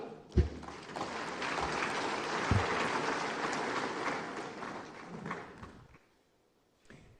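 An audience at the Afreximbank annual meetings applauds an arriving ambassador, a broad steady roll of clapping rising after a few close thumps, holding for several seconds, then fading out before a brief knock near the end.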